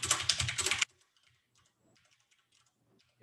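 Quick burst of typing on a computer keyboard, a dense rapid clatter of keystrokes for under a second, then near silence with faint scattered taps.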